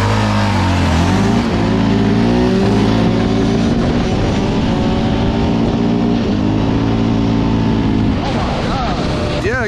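Two-stroke dirt bikes race each other, with buzzing engines held at a constant high rev and pitch rising under throttle. The sound is close and very loud, and muffled voices can be heard faintly underneath.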